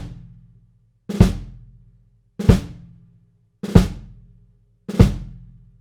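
Four evenly spaced drum drags on a drum kit, each quick grace-note buzz landing on a primary stroke doubled by the bass drum, loud and close with short decays between hits.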